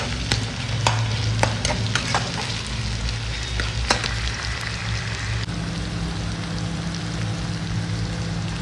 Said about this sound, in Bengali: আমি টমেটোটা দিতে থাকছি। ভালো করে ফ্রাই হবে এখন।